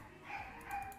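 A dog yipping excitedly before being taken for a walk, two short high barks somewhat distant and faint within a brief moment, with no talking.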